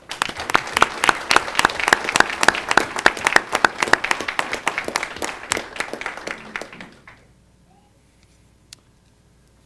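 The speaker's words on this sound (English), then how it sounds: "another round of applause for them" Rows of attendees at a school board meeting clap crisply, with individual hand strikes distinct and loud, swelling then tapering off around seven seconds into near silence with one last stray clap.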